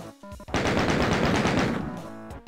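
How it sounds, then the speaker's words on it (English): Minigun firing in the retro shooter Doom, a loud, rapid burst of rattling shots lasting about two seconds before cutting off, alone with no talk over it. "What the hell is that minigun?"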